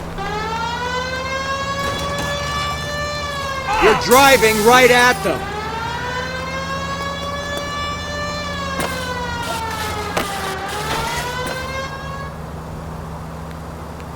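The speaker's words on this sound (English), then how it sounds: "Put the siren on!" Police car siren in the L.A. Noire video game wails in long rising and falling sweeps, loud and sustained, with voices shouting over it.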